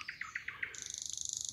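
A nightingale sings outdoors: a quick series of clear repeated notes, then a rapid high trilling run, fairly faint and with no talking.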